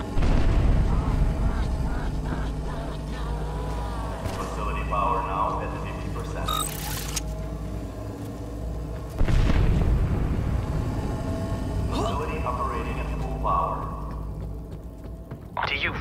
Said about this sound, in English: Are you firing a goddamn space laser at my satellite dish?